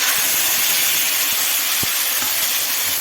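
Bay leaves, dried and fresh chillies, ginger and tomato paste sizzling in hot oil in a kadai, giving a loud, continuous, even hiss with a few faint pops and taps underneath.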